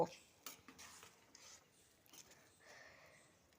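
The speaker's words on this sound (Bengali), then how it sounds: "দেখো একটু নেড়ে চেড়ে নিলাম" A spoon scrapes and clinks faintly against a pot while stirring a potato, pea and paneer curry with hot water added, light irregular knocks and scrapes spread across a few seconds.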